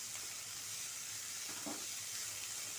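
Chopped carrots, beans and potatoes sizzle steadily in a hot pan over high flame, a constant soft hiss with faint stirring scrapes, quiet and close.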